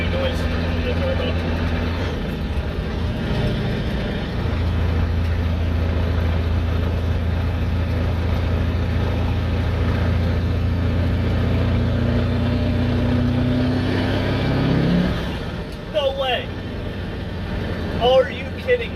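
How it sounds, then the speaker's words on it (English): A CAT 3208 turbo diesel fitted with a howl pipe pulls under boost, a loud steady low drone rising in pitch near the end before dropping away, with voices talking over it. "Drop it a gear and put it into some boost and see if it has any new noise in the turbo."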